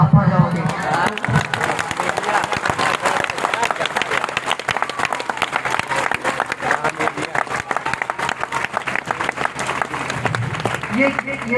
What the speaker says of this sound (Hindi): ये तालियां इसलिए बची क्योंकि आप लोग समझ रहे हैं कि भाई ये मंत्र क्या है